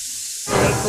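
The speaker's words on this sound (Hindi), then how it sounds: "कुकर की सीटियाँ भी अभी बजनी होती है।" A pressure cooker lets out a loud, steady hiss of steam that starts abruptly halfway through after near silence and carries on alone.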